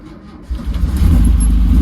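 A VW car engine cranks and catches about halfway through, then settles into a steady, close, low rumble as it starts running.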